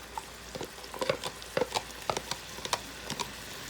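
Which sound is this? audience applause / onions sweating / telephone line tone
onions sweating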